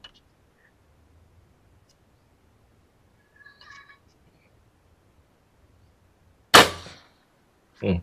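An air rifle fires in a quiet outdoor setting, a single sharp, loud crack that decays quickly, followed by a second short burst at the very end, with faint bird-like chirps earlier.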